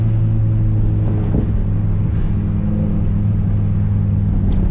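A Ford Fiesta MK4 drives with a deep, steady engine drone and low rumble heard from inside the car, fairly loud and constant throughout, without talking.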